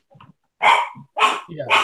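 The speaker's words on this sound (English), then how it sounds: "Podcast, you been fucking barking. Damn dog." A dog barks three loud times in quick succession, close by, with someone briefly speaking around the barks.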